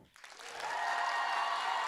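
A debate audience breaks into applause to vote, the clapping starting sparse and swelling quickly into a steady, sustained round from a crowd in a hall.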